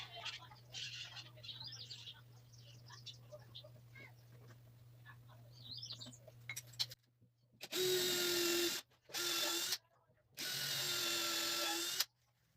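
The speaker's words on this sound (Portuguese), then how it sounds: "Vou colocar aqui, marcar aqui, furar e parafusar de lá pra cá." Power drill bursts into pallet wood in a woodworking shop, three loud sustained whirs of a few seconds each after a stretch of quieter workshop noise with birds chirping in the background.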